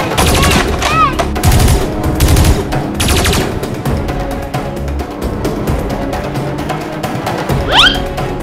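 Toy Nerf blasters fire in a rapid, noisy Nerf war, bursts of sharp clattering shots mixed with shouting kids and high squeaky sounds.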